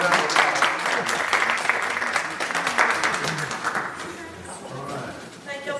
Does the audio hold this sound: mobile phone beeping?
no